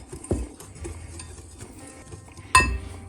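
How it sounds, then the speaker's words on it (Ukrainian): A spoon stirs dry cake mix with cocoa powder in a bowl, making soft scraping and a couple of sharp clinks against the bowl, the last one loud near the end. "Змішуємо сухий мікс до однорідності."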